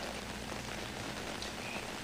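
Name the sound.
heavy rain falling at night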